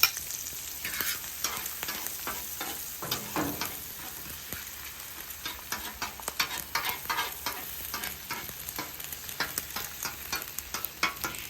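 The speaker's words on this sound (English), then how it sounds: "Get those 2 eggs, scramble those up." Two eggs being scrambled on a hot flat-top hibachi griddle, a loud steady sizzle broken by many sharp scraping and tapping strokes of a spatula in quick irregular rhythm, with no voices.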